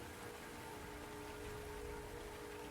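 Endless steady rain, a continuous soft hiss of falling drops at an even low level, with no pauses and no voices.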